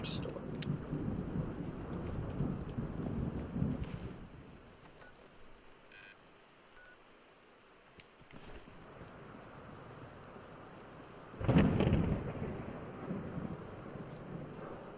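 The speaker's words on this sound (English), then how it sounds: "Not a rad storm. No, just a storm." A thunderstorm in the game Fallout London: steady rain hisses throughout while deep rumbles of thunder roll in at the start and again near the end, with a quieter lull between.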